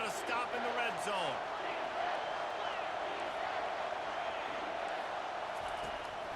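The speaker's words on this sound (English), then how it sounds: "The crowd getting behind this defense as they try to get a stop in the red zone." Stadium crowd at an NCAA college football game between Tennessee and Arkansas roaring steadily behind the defense in the red zone, a dense continuous wash of cheering with some faint commentary-like voices early on.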